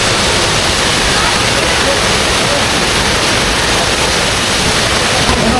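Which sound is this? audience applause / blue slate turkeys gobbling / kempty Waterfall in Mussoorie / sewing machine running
kempty Waterfall in Mussoorie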